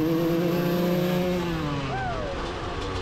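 Motocross bikes, including a KTM, roar off the start gate together, a loud sustained engine drone with pitches sliding as the riders accelerate away.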